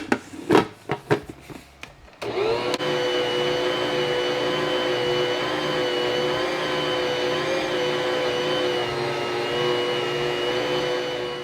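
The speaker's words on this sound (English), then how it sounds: "now that my dough is pulling away from the side of the mixer, like the side of the bowl is getting clean" A stand mixer kneads a heavy, wet sourdough bread dough loaded with about 10 cups of flour, a loud steady motor whine that holds constant after a few sharp knocks and clunks at the start.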